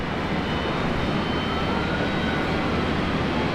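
A Boeing 777 jet in from Auckland passes at Brisbane Airport, its engines a steady, loud, broadband roar that holds evenly throughout.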